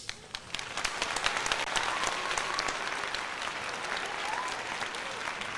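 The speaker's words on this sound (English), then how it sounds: "Gotta give him a round of applause for that" A baseball crowd applauds after a 493-foot foul ball, steady clapping and cheering spread across the stands for several seconds, loud and continuous.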